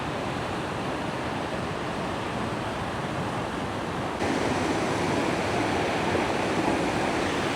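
The Rhaeadr Ddu (Black Waterfalls) cascade roars close and loud as a steady, dense wash of falling water that slightly intensifies partway through, with no voices.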